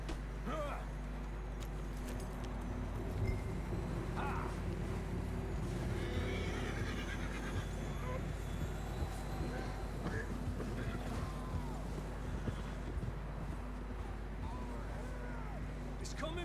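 Horses whinny and their hooves clop on a trail in the Western video game Red Dead Redemption 2, the riding sounds steady and moderately close beneath characters talking.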